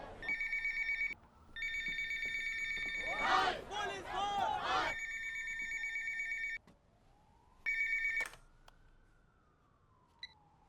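An electronic phone ringtone trills in repeated bursts, loud and close, with a brief stretch of talking in the middle and a short pause between rings.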